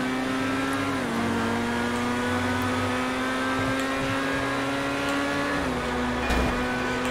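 A Ferrari engine in GTA V drones steadily at a constant high pitch, holding speed with slight dips in revs, loud and continuous with faint tyre and road noise underneath.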